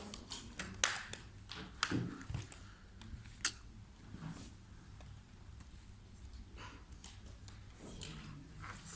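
Keys tapped on a graphing calculator keypad in graph mode, a quiet irregular series of light plastic clicks, a few sharper presses standing out over a faint background hum.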